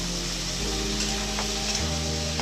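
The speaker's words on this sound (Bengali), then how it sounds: "এবার সব সবজিগুলো ঢেলে দিলাম" Vegetables tipped into a hot pan of onion and chopped chili for pasta chowmein, giving a faint, even sizzle over a constant low hum from the stove, with no talking.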